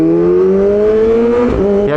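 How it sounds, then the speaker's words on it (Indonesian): Kawasaki ZX four-cylinder motorcycle engine revving loud and close, a steady high-pitched wail that climbs smoothly in pitch over two seconds with a brief dip near the end. "Anjir ZX gitu kan suaranya."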